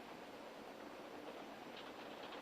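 A train rolls along on rails, producing a continuous, faint and even rumbling hiss with no distinct clacks, heard from inside or nearby, without any talk.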